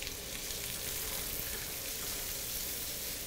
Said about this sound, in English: And the sizzle is always really nice